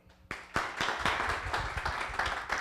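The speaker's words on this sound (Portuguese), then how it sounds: "Vamos receber com aplausos a coach Juliana Beraldo." An audience starts clapping with a few sharp isolated claps, then builds into steady, fairly close applause to welcome a speaker onto the stage at a corporate training talk.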